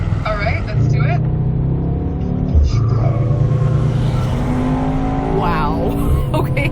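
A 2021 Mercedes-AMG E63 engine drones and revs in Sport Plus mode, with a sustained loud hum that shifts pitch as it accelerates, while people talk over it from inside the car.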